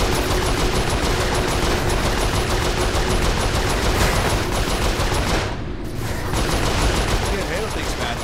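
Dense, continuous automatic gunfire fills the Saints Row IV video game, a loud unbroken barrage of rapid shots with mechanical clatter, briefly dipping in intensity before resuming.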